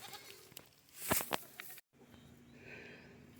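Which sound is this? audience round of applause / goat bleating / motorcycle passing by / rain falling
goat bleating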